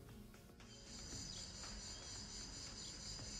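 Cicadas droning steadily in a sunny spot beside Roman ruins and a church in Vaison-la-Romaine, a dense continuous high buzz that swells after a brief start and holds without pause.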